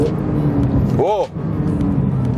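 A Porsche 992 GT3 downshifts automatically under braking, giving a short sharp rev blip as the engine note rises and falls over the steady road and cabin rumble.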